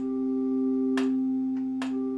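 A steady Wurlitzer theatre organ tone with a mutation stop adding a fifth above, held throughout, with two brief clicks or key noises breaking in.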